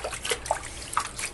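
Grapes sit soaking in a bowl of water, giving soft, close sloshing and a few light drips and trickles over a steady watery background, with no talking.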